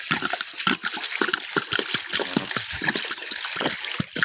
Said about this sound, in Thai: เทน้ำลงเลยนะครับนี่ครับ น้ำที่เตรียมไว้นะครับ เทลงเลยนะครับ